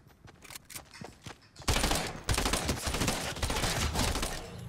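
Rapid bursts of SMG gunfire in the video game Fortnite rattle on continuously, growing louder and denser partway through amid other game sounds.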